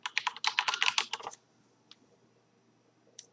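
Rapid typing on a computer keyboard while editing a file in a text editor, a quick burst of close clicking keystrokes for about a second, then two isolated key taps after a pause.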